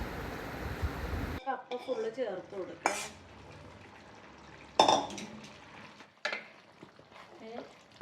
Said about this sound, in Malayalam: കപ്പയും ബീഫിൻ്റെ ഗ്രേവിയും കൂടെ നന്നായിട്ട് മിക്സ് ചെയ്ത് കൊടുക്കാം